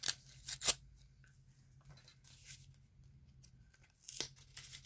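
A paper SIM card package for a Straight Talk home phone unit is torn open: a few quick, crisp ripping and rustling bursts, loud near the start and again toward the end, with quiet handling noise and a low hum between them.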